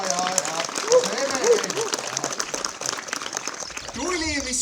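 Applause from a village crowd greeting the song and dance festival flame arriving in Kiikla, Estonia, steady clapping throughout with people talking and calling out over it.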